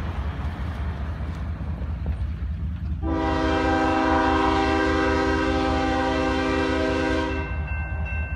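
CSX freight train on the Memphis Subdivision sounding a long, loud multi-tone air horn blast for about four seconds over the steady rumble of the passing train.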